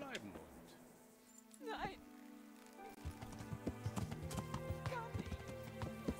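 Horse hooves clip-clop in a medieval role-playing game, a steady stream of hoof beats that picks up after a brief lull, with someone talking over it and a short horse snort.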